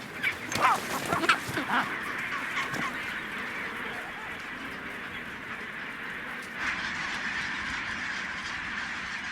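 A penguin colony calling on a secret island, a dense continuous chorus of honking, braying cries, loudest and most distinct in the first few seconds, then settling into a steady crowded wash of overlapping calls.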